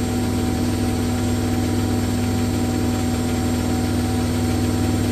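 A Hoover Nextra top-loader washing machine on full spin at 1400rpm gives a loud, constant whirring drone with a steady vibrating hum and fixed tonal whine, unbroken from start to finish.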